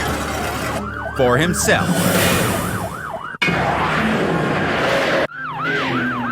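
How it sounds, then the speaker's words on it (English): Police car sirens wail during a high-speed pursuit on a quiet night in Georgetown, Kentucky, with repeated rising and falling yelps, loud and close, broken by sharp cuts, and a brief voice speaking at the start. "The shriek of sirens on the quiet night warns the countryside a high-speed pursuit is in progress"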